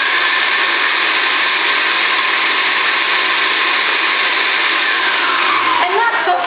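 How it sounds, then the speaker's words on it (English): A blender purees strawberries with honey in a continuous, loud, close whirring drone that holds steady throughout and shifts pitch slightly near the end, with no speech. "we're just going to puree it for a little bit longer"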